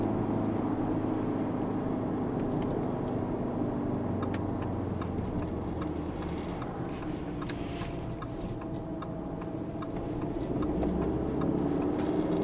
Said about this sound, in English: Downshifting in this thing is pretty exciting.